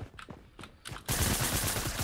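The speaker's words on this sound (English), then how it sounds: "I hear shooting." Gunfire in Fortnite, a burst of rapid shots that starts abruptly after a second of quieter, intermittent game sounds and continues loud and dense to the end.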